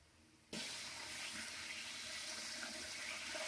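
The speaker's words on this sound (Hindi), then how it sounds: "इसमें पानी डालेंगे" Water suddenly starts pouring into a cooking pot of browned onions after a brief quiet moment, a steady, full splashing rush that continues without pause.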